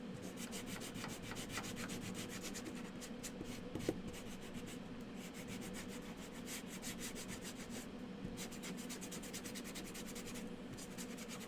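Steady dry rubbing of sandpaper against the small wooden grass piece of a butterfly-themed DIY craft kit, continuous scratchy strokes running throughout at close range with no voices.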